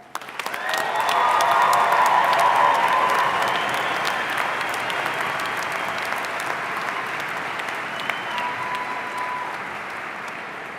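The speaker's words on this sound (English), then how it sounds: "Please join me in giving them one last round of applause" Graduates at a spring commencement ceremony receive one last round of applause from a large audience; dense, sustained clapping swells quickly and holds for about ten seconds, slowly thinning toward the end, with no talking.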